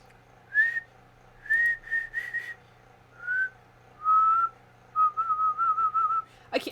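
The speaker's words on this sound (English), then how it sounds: "I can't whistle with lipstick?" A person tries to whistle while wearing lipstick, producing a string of short, breathy whistled notes, some single and some quick repeated chirps, fairly close in a quiet room, with no talking.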